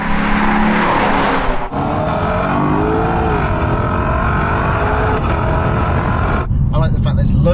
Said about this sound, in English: I like the sound of the engine.